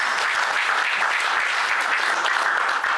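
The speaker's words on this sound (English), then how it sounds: "Give a round of applause" Steady, dense applause from an audience at a gala night honouring junior tech-competition champions, cheering a secondary school from Onitsha; loud and continuous for the full length with no talk over it.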